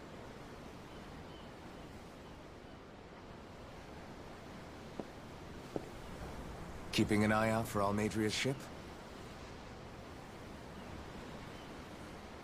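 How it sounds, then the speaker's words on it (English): Ocean waves wash in a steady, soft surf bed in the video game Tales of Arise, with a character's voice speaking briefly over it midway. "I'm looking at the ocean."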